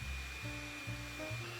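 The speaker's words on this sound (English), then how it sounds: "start whipping the egg whites with a mixer, gradually increasing the speed" An electric mixer whips egg whites, whirring steadily, its motor pitch stepping up in stages, fairly quiet and with no voices.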